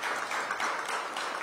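A crowd claps warmly and steadily for a DC ward council member at a mayoral union agreement signing, a dense, continuous round of applause.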